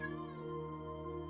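A cat in the video game Minecraft lets out a single drawn-out meow, faint and tonal, heard alone.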